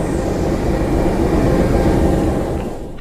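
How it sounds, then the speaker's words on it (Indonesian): The Gunung Jati passenger train pulls out of Gambir station in Jakarta with a loud, steady low rumble and rolling noise close by, easing slightly at the very end. "kereta api Gunung Jati yang saya naiki akhirnya berangkat juga nih dari stasiun Gambir"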